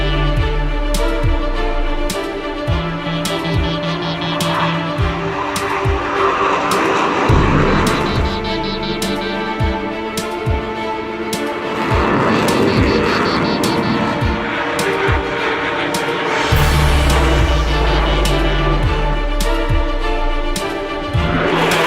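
A Boeing 757 taxiing for takeoff gives a steady, loud jet engine drone heard from inside, with repeated clicks and thumps and a deeper rumble rising near the end.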